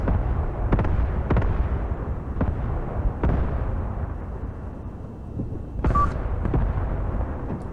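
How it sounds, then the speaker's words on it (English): Rockets landing in the war game Graviteam Tactics Mius: a dense, continuous barrage of booming impacts with repeated sharp blasts over a rumbling roar, loud throughout with no talk. "That's a lot of rockets."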